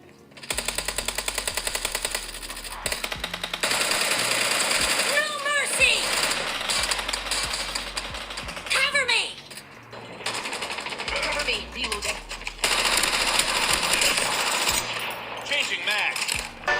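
PUBG gunfire played through Samsung Galaxy S23 Plus phone speakers, rapid automatic bursts rattling loudly and almost continuously with brief pauses, bright and slightly tinny in tone, mixed with other game effects.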